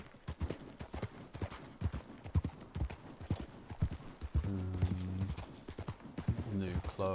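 Horse hooves clip-clopping in the video game Red Dead Redemption 2, a steady run of close, distinct hoof strikes on the ground, with someone talking and game music rising partway through.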